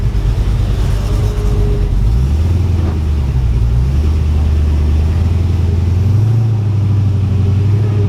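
A 1976 Chevy C10 pickup with a V8 cruising at speed, heard as a loud continuous low engine and road rumble from inside the cab, with the engine note shifting slightly midway.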